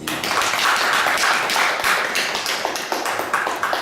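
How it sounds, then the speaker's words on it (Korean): An audience at a Buddhist lecture event applauds the chairman monk, a dense, steady round of clapping from many hands that holds for several seconds and then thins toward the end. "여러분, 우리 이사장 스님께 박수 보내드리겠습니다."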